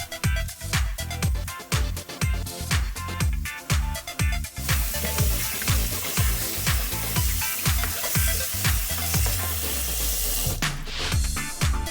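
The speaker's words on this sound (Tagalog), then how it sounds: "Then rinse under running water to stop the cooking process" Cooked noodles are rinsed under a running kitchen tap, a steady splashing water stream punctuated by repeated clunks and knocks of the noodles and strainer, close and fairly quiet.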